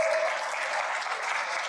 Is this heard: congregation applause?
yes